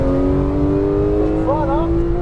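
Porsche GT3 on a racetrack under light throttle, a steady engine drone with rising harmonics, close and continuous while an instructor talks over it.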